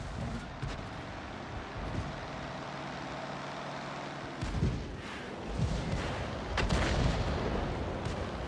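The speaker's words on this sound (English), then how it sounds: "Artillery's trying to help." Distant artillery blasts boom through a tank video game, with a steady low engine rumble underneath and a few heavier thuds toward the end.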